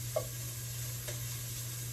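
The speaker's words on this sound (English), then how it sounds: "We just want these little bits of bacon to brown up pretty quickly" Bacon bits frying in a pan over medium-high heat, a steady soft sizzle with a faint hum underneath and a couple of small crackles, no talking.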